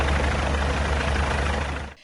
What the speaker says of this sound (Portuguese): Helicópteros da Polícia Militar e dos bombeiros sobrevoavam baixo.